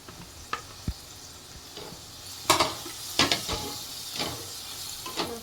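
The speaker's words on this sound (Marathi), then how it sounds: "हे बघा मस्तपैकी कांदा तो शिजलाय. आता आपण टाकीचा लसूण," Onion and garlic frying in a pan, a soft steady sizzle broken by scraping stirs and several sharp clinks of a utensil against the pan's metal.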